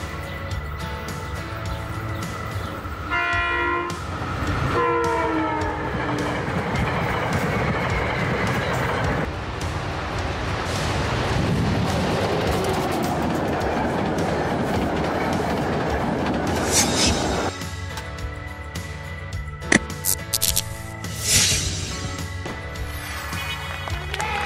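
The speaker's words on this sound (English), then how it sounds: "SEPTA train is a specialized public railway vehicle used to transport passengers and light goods." A SEPTA passenger train rumbles steadily along the rails for a long stretch, wheels clattering rhythmically, with occasional squeals and tonal hums from the cars.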